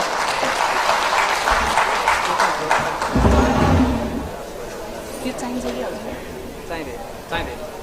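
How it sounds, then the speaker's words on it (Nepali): An audience at a book launch for a Nepali autobiography applauds warmly in welcome, loud clapping that gradually thins out as a voice speaks over the tail. "हामीले साँच्चै नै जोरदार तालीका साथ उहाँलाई स्वागत गरौँ"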